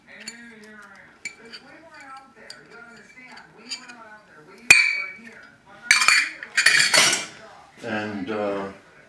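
Dry salad ingredients, nuts and raisins, clinking and rattling in a bowl in a home kitchen for a spinach and turkey salad, with bursts of tossing and scraping mixed under ongoing talk.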